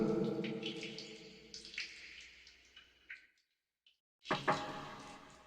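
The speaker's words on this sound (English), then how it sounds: "you could hear the ambient effect, which is obviously water dripping." Water drips and trickles in a quiet space, a steady wet ambience with scattered small drops, broken by a brief silence before resuming.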